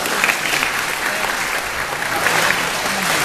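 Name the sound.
audience applause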